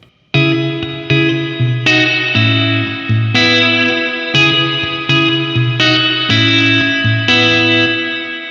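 Guitar chords played through a Boss RV-5 digital reverb pedal with the tone knob at noon, a balanced mix of lows and highs; loud strummed chords ring out one after another, each trailing into a wash of reverb.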